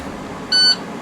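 A bus low air pressure warning sounds as the brakes are fanned during a pre-trip test: one loud, steady electronic beep lasting about a quarter second over a constant engine hum.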